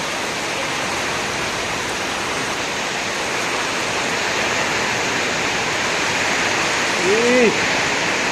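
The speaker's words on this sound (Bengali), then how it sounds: "বৃষ্টির মাত্রা বাড়তেছে" Heavy rain in Subarnachar, Noakhali, pouring in a dense, steady roar like a waterfall, loud and unbroken, with a brief short vocal sound near the end.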